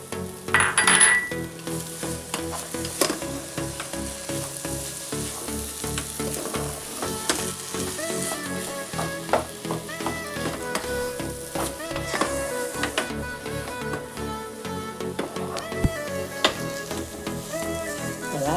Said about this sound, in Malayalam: ഇപ്പം നമ്മൾ കാഷ്നട്ടും മുന്തിരിയൊക്കെ ഇതിലേക്ക് ഇട്ട് കൊടുക്കുന്നുണ്ട്